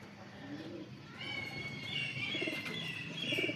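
Breeder pigeons at a loft in Sarai Alamgir, Jhelum give soft low coos under higher, thin chirps that grow louder toward the end, with steady background noise.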